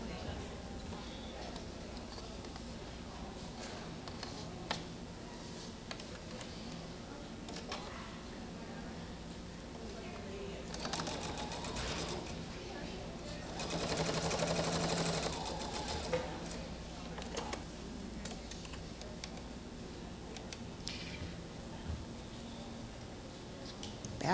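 A sewing machine stitches quilt pieces in a steady, quiet mechanical whir with faint ticking, swelling louder for a stretch partway through.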